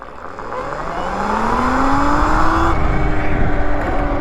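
A 72V Sur-Ron electric motorbike on its stock motor accelerates hard from a standstill. Its loud electric whine climbs steadily in pitch over a few seconds, then levels off, with tyre and wind roar underneath.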